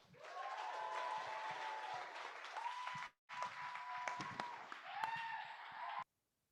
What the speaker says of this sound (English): please, everyone, give a nice round of applause to Duran Harris